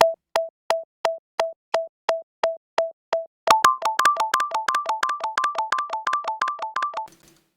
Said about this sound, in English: Let's just keep it like that simple little blip. Got all that. Turn on my ping pong delay.